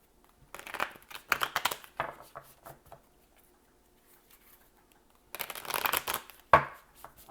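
Archetype deck tarot-style cards riffled and shuffled by hand, two short bursts of crisp flapping patter up close. A quiet gap sits between the bursts, and the second ends in a sharp tap as the deck settles.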